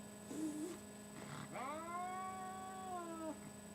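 A cat meows twice nearby, a short cry followed by a longer drawn-out wail, over a quiet room hum.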